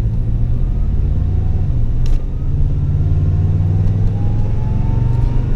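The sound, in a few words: supercharged Toyota Tundra accelerating up to 4,000 RPM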